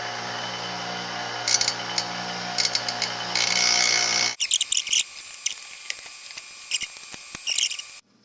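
Trimming a plastic Saiga 12 shotgun fore end with a tool: a steady buzzing, grinding run for about four seconds, then sharp scraping, clicking bursts and rattles, close and fairly loud, with no talk.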